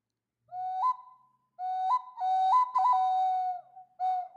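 A whistle sounds in a few separate breathy phrases, each holding a low tone that steps up and down, soft and hooting like a mourning dove.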